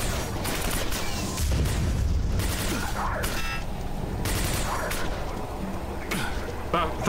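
Gunfire in the shooter Quake 4, repeated sharp cracking shots and impacts scattered across the stretch over a busy game background, fairly loud and close, with no talk.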